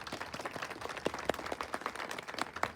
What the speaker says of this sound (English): let's give Ms. Knight a nice round of applause for her great work